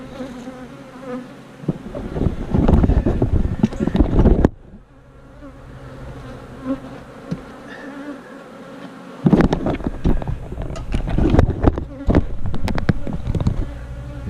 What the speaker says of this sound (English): The extra bees are going to go over here.